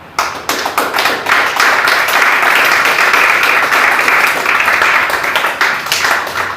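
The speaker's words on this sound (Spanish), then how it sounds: "Quiero un aplauso al Señor." A church congregation claps loudly and steadily in unison, a dense, close burst of hands sustained for several seconds before it tapers off.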